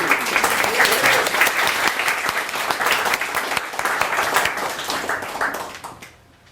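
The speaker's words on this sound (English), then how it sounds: "all of you deserve a round of applause for your efforts" Guests at a Purple Olympics award luncheon break into loud, sustained applause, a thick wash of hand claps that holds steady for several seconds before fading out at the end.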